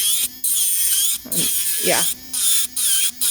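A Kredioo electric nail drill files acrylic nail material, giving a steady high-pitched whine that runs through most of the moment and drops out briefly a few times, while someone talks over it.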